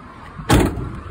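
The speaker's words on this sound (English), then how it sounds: "Shut the doors." The rear doors of a courier van slam shut in one solid thud, close and loud, over a steady low outdoor hum with no voices.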